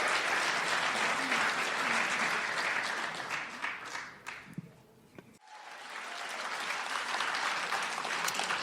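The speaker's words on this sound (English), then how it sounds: "And another round of applause for all the candidates here tonight." An audience at an election candidates' forum gives a loud, sustained round of applause that dips briefly in the middle before swelling again.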